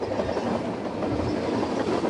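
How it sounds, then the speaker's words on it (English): A train rolls along a railway track behind a house in a residential development built on former landfill, giving a steady, continuous rumble with a faint rhythmic clatter that holds level throughout, with no voices. "their home backs onto a railway track"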